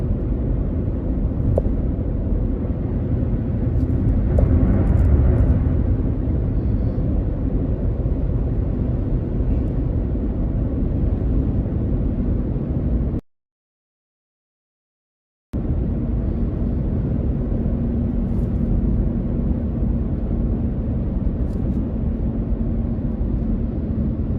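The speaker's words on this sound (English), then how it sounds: "I'm guessing that's the CHP plane that was talking to the helicopter" A California Highway Patrol fixed-wing plane circles overhead, its engine a steady, broad, distant drone that holds for the whole stretch, broken only by a brief gap of silence.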